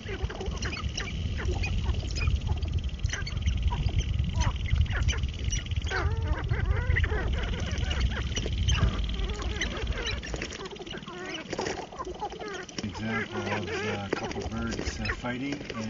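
Sharp-tailed grouse call during a courtship dance, a dense, close chorus of rapid clucks, cackles and cooing that runs on without pause.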